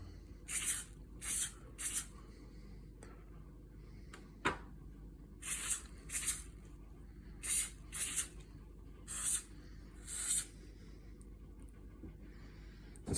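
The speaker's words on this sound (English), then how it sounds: "a quick spray with oil." Short hissing bursts of cooking oil spray onto chicken drumsticks come in quick pairs and clusters, repeated several times, close by over a quiet room background.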